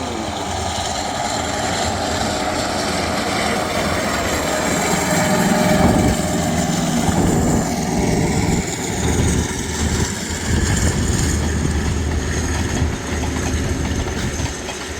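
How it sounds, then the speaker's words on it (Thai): An Alstom diesel locomotive accelerating at full throttle roars steadily at high power, with rumbling rail noise and a sustained loud drone throughout. "อสตอม4301 ครับเร่งเครื่องมาแล้วอัดเต็มที่โอ้โห"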